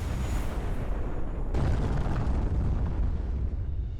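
Artillery fire pounding near an armored personnel carrier as troops disembark: a continuous loud rumbling roar of blasts and bursts, dense and sustained, with a sharp shift in intensity partway through.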